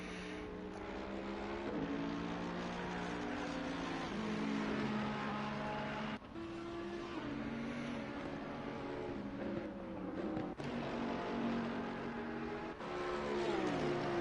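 Formula racing cars in a racing video game, a green Mercedes sweeping past a McLaren and a Ferrari: steady high engine whine with rising and falling pitch as cars pass, fairly faint and continuous throughout.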